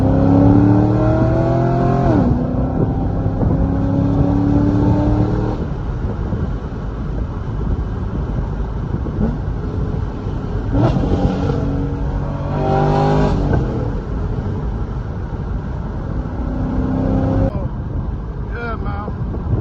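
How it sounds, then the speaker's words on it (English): C6 Corvette with a cat-back exhaust and catless headers, heard from inside as the engine revs up through the gears with rising and falling pitch sweeps, loud and continuous over strong wind noise. "I like to rev it all the way up, get it into the high power band"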